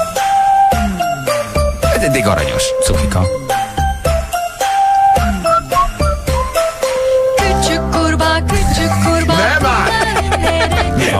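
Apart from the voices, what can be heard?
children's song played on a radio show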